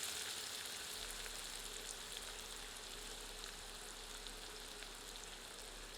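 Onions fry with cumin in hot oil over medium heat for a flat lima bean and potato dish, a faint, even sizzling hiss that holds steady throughout with no voices.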